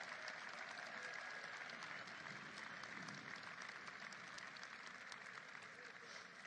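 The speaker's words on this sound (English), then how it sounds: "Let's have a round of applause for our great caucus." Audience applause for a congressional caucus at a presidential event celebrating the Inflation Reduction Act, a steady, distant wash of many hands clapping, faint and sustained throughout.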